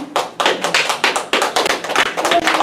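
Church congregation clapping to welcome an elder coming forward to give testimony, a fairly close, loose patter of hand claps in uneven bursts, with no one talking.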